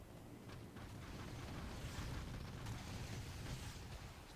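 A power bomb detonates in the real-time strategy game Rise of the Reds, a sustained, dense rumbling blast with crackling bursts rolling on for several seconds, heard alone without voices.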